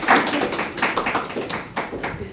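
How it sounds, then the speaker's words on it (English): An audience at a Nagel Institute talk gives an encouraging round of applause, a moderate patter of many hands clapping in an irregular, fairly close rhythm with no speech over it. "Can we give her an encouraging clap?"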